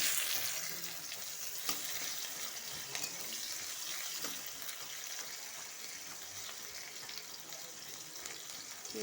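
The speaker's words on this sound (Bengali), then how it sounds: "পেঁয়াজটা একটু ভাজা ভাজা হবে।" Onion sizzling and frying in a pan for a Bengali chana dal recipe, a steady bright hiss throughout with occasional stirring clinks.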